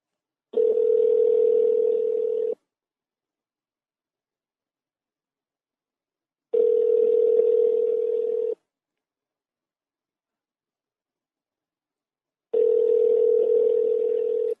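An unanswered phone call rings back through the handset as a steady tone, with three long two-second bursts spaced about six seconds apart and dead silence between them, clear and close with nobody speaking.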